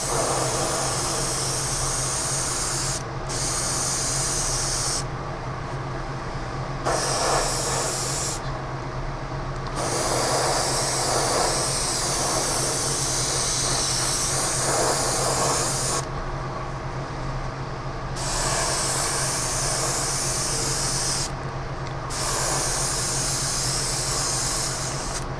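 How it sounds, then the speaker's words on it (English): Steady airbrush hiss at about 30 psi while painting a scale model, running continuously, broken by brief pauses where the spray stops and restarts; close and fairly loud, no voices. "I'm spraying this at about 30 pounds because I'm kind of pulling back on the trigger a bit"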